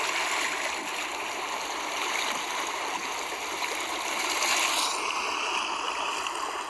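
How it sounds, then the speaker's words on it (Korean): Sea recorded near the shore: a steady, dense wash of surf and moving water that runs unbroken throughout, with a brief surge near the end and no voices. "이 바닷소리가"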